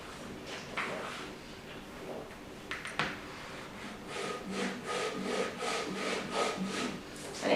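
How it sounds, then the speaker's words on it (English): A cake leveller wire draws through a sponge cake layer with soft, close rasping strokes that grow into a rhythmic series of scrapes, quiet overall, with a light knock partway through. "place your hand on top of the cake and just whiz that through"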